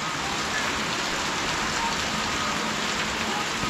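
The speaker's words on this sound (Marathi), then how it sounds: "भरपूर पाऊस सुरू झाला आहे" Heavy rain pours down steadily at the Shri Vishnu temple grounds in Vyad, a dense, even hiss of falling water that holds at full strength throughout, close and continuous, with no clear voices over it.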